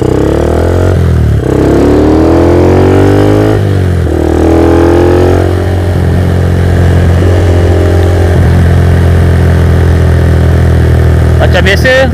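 A Yamaha LC motorcycle with a 177cc spec engine and tuned TZM carburetor runs loud and close, revving up and dropping back several times before settling into a steady idle, with someone talking over it.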